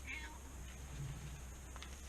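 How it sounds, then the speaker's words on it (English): A cat meows from somewhere overhead in an outdoor setting, a short faint high call near the start of the clip, heard over steady low background rumble with no talking. "have a cat somewhere up there meowing at me"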